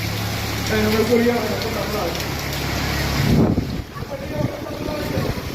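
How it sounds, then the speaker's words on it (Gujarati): Heavy monsoon rain roars steadily in Surat with gusty wind noise buffeting the microphone, while a voice talks over it near the start. "બીજી વાર અંધરાધાર વરસાદ ચાલુ"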